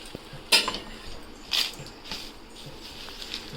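Dried red chillies drop into a kadai with two sharp, close clinks of metal, followed by fainter light taps and rattles in a quiet kitchen.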